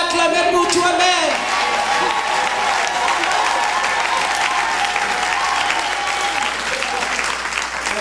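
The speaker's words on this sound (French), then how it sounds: "Est-ce que tu peux acclamer pour toi-même?" A crowd at a women's church conference applauds and cheers for themselves, with loud, sustained clapping and voices.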